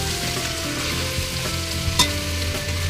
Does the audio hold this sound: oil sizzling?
yes